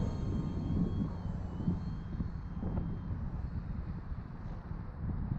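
An FT Bushwacker RC model airplane landing, with a faint buzzing electric motor drone under gusty wind rumble on the microphone outdoors, no talk.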